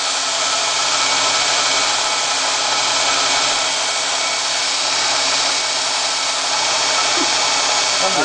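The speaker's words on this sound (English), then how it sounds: "I'm going to grind 3 grooves on here." Steady, loud abrasive whine of a grinding wheel cutting grooves into a metal part, continuous and unbroken throughout with no pauses.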